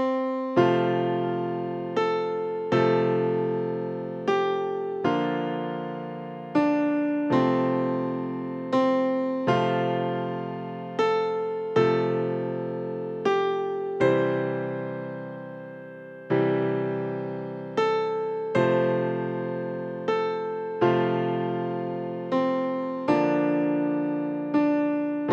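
A piano piece from a chord book lesson, played with both hands together: clear, close notes and chords struck in a steady rhythm, each decaying before the next, with no talking.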